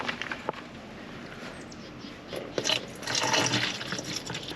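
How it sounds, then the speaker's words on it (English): De-icer washer fluid pouring into the reservoir of a Jeep, a soft steady liquid fill with gurgling that swells louder toward the end, close by and without talk. "So then we're just going to refill everything with the de-icer."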